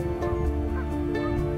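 Geese and swans out on a lake as darkness falls during the 2024 eclipse, with a few honking calls rising over a steady background, moderately close and without talk.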